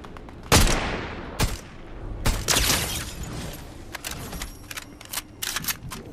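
Sniper rifle shots in a Fortnite match, several sharp loud cracks spread irregularly, with a couple of bigger reports early and a quicker burst of fainter shots near the end.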